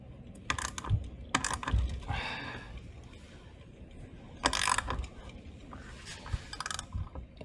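A 10 mm socket ratchet works the battery bolts on an Okai Neon Pro scooter, giving quiet, close clicking pawl runs and scattered metallic taps in short irregular bursts.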